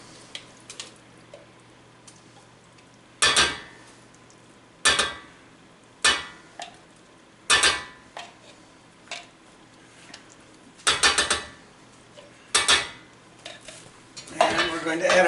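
Pumpkin is added to broth in a pan and stirred for cream of pumpkin soup, a series of sharp metallic spoon-against-pan clanks and scrapes repeating every second or so, with soft wet stirring between and no talking.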